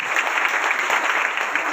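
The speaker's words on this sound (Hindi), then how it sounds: "और हमारे भाई दास के लिए और ताली बजाओ प्यार से।" A crowd at a Christian healing service claps for a brother named Das, giving sustained, even applause that is moderately loud throughout.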